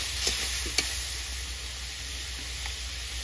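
A splash of water hits ground spices, including turmeric and chili powder, frying in a pan for a green mango and snakehead fish curry, setting off a loud, steady sizzle with a few faint stirring scrapes.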